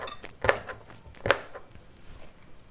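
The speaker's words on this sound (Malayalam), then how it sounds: "ഇപ്പോൾ ഞാൻ അച്ചിങ്ങ പയറെല്ലാം ഇതുപോലെ കട്ട് ചെയ്തെടുത്ത് വെച്ചിട്ടുണ്ട്" A knife chops long beans on a board for thoran, two sharp, close strokes stand out among lighter taps in an uneven rhythm, with no talk.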